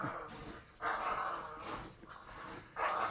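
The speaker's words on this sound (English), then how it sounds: "my little devil dog has lost her fucking mind, so I apologize for that if y'all can hear it" Small female dog barking in bursts indoors, sharp yips rising and falling over a few seconds at moderate distance, with no speech over them.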